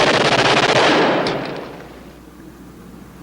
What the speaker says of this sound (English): You're firing at the wrong guys.